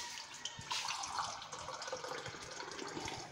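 Tap water streams into a cooking pot in a steady, gently splashing fill, quiet and close with occasional drips and no voices.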